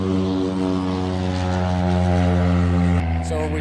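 A propeller airplane takes off at Bakersfield airport in California, its steady engine drone loud and harmonic throughout, with a brief sharp disturbance near the end.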